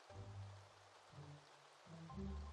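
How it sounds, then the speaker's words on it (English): Rain falling in the Staxel farming video game, a steady soft patter with low rumbling undertones running continuously through the short stretch, fairly quiet and with no talking over it. "Sounds like it's raining, which is very nice because that means I won't have to actually water."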